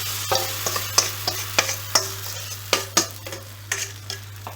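A chicken mixture sizzles in a hot skillet while a utensil scrapes and taps against the pan in irregular, close knocks over a steady frying hiss.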